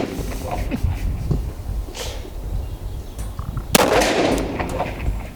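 A .45 ACP pistol shot from a Tisas or K11 cracks out loud and sharp at an outdoor range, preceded by faint scattered handling noises and low murmuring, with a few quieter clicks after.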